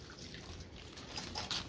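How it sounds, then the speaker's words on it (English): Limoncello pours through a fine mesh strainer into a bowl, a soft, continuous trickle with light splashes and a few brighter drips, faint and close. "I'm just going to pour this through the strainer into the bowl."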